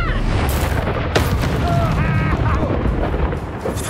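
A Bombarda spell explodes with a loud boom in a Harry Potter video game battle, set against dense continuous game noise and music, with short voiced shouts layered through the mix.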